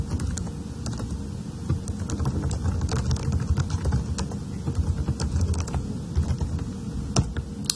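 Someone types an email on a computer keyboard, a fast, continuous patter of close key clicks with occasional heavier strokes, steady throughout and with no talk.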